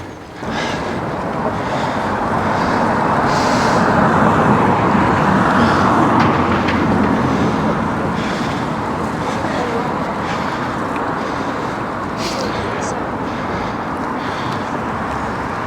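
Light traffic on a town road in Bonnyrigg passes by, a steady wash of tyre and engine noise swelling and easing as vehicles go, fairly close and continuous.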